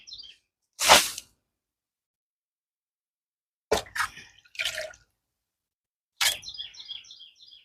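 Water slung out across a garden in separate splashes: one sharp splatter, then a quiet gap, then several quick splashes and drips, with birds chirping faintly between them.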